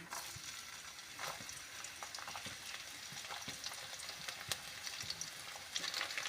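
Chopped garlic and cumin sizzle steadily in hot oil for a palak paneer dish, a dense crackling hiss with scattered louder pops and faint stirring, close and continuous with no voices.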